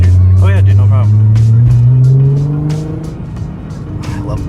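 Nissan GT-R turbo engine droning loudly from inside the car, a steady low rumble rising in pitch then easing off, with people talking and laughing over it.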